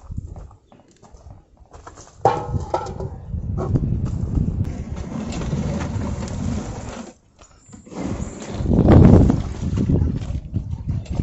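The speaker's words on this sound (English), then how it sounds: "I don't know about the audio because the wind is swirling around" Gusty outdoor wind buffets a microphone on a homestead, low rumbling bursts that swell and drop out several times, loudest near the end, with no one speaking.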